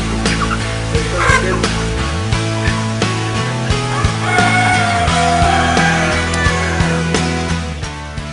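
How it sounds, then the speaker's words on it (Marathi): Native Kadaknath chickens on a farm in hot Chandrapur call loudly and close by, their overlapping clucks and drawn-out squawking cries following one another continuously above a steady background. "जंगलानं वेढलेल्या परिसरात यशवंत तायडे यांनी वेगळ्या जातीच्या कोंबड्या पाळल्यात."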